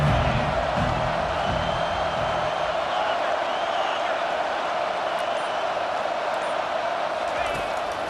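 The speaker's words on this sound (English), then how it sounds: "Third down, and this crowd is tearing the lid off this place." A packed stadium crowd roars steadily during a third-down play in the EA Sports College Football 25 game, a loud, unbroken wall of noise with a muffled voice underneath at the start.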